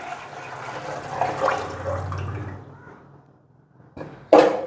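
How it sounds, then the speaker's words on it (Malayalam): Measured water pours into a pot of Palakkad Rawuther mutton biryani masala, a gurgling, splashing stream that fades out, followed after a short pause by a sharper splash or clatter near the end. "ഇനി നമുക്കിതിലേക്ക് നമ്മൾ അളന്ന് വെച്ചിരിക്കുന്ന വെള്ളം ഒഴിച്ചെടുക്കാം"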